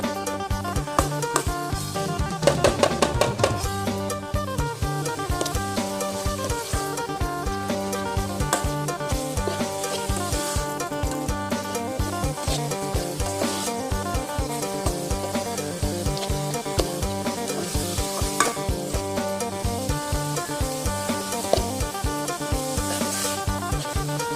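Minced pork sizzles in a hot pan with curry paste, while a spatula stirs and scrapes in a steady rhythm throughout, close and moderately loud, with no talking.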